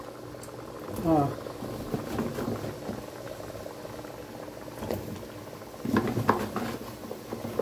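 Pumpkin pieces simmering in sugar syrup with melted sugar, a soft bubbling and gentle patter close by, with a few stirring sounds and someone speaking briefly over it.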